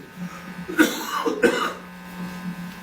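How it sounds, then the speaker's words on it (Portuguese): Two short, rough coughs from someone with a bad cough, close to the microphone, one after the other, over a quiet steady hum. "eu estou com uma tosse terrível"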